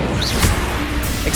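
Leviosa levitation spell cast in the Hogwarts Legacy video game, heard as a brief airy whoosh with a light magical shimmer over a steady dense game soundscape.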